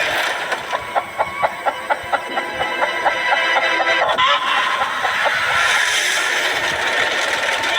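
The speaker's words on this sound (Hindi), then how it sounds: "ये चिकन तो काफी शांत है" A chicken on a remote island clucks in a quick run of evenly spaced, close clucks, then fades into a steady background hiss and wind-like noise.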